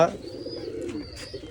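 Soft, low pigeon cooing fills the short clip, with a faint higher chirp and rustling nearby; no one speaks.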